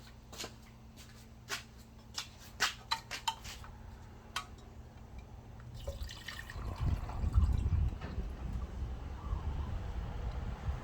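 Water is poured into the tank of a Cimbali M20 Junior espresso machine. A few light clicks and taps come first, then a steady, close rush of water fills the second half.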